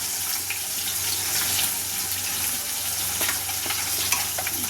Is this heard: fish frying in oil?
yes